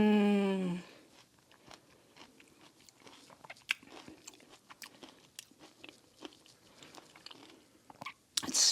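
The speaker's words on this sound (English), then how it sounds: "Let's try the cream corn." Close, wet chewing and crunching of spicy, creamy cream corn at a Texas BBQ mukbang, with repeated moist bites and mouth sounds over a quiet background; a short voice opens and a louder bite closes.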